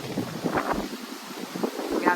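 Wind buffets the microphone outdoors at a holiday rental in Guadeloupe overlooking the ocean, a short stretch of gusty rumble and hiss.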